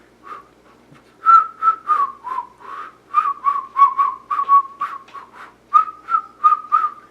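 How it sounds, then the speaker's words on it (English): A person whistles a short tune alone, a string of clear bright notes in quick phrases with brief pauses between them. "Listen to my whistling."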